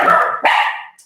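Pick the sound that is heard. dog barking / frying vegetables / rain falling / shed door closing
dog barking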